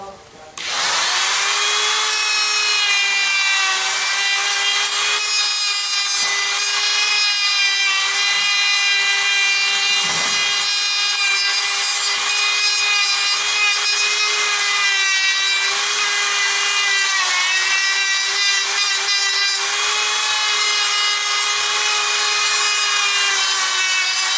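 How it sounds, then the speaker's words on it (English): A power grinder carves wood off a pre-bonsai tree trunk, a loud, steady high-pitched whine held for over twenty seconds after a quick spin-up, with faint pitch dips where the tool bites into the wood. "I will have to really grind this off."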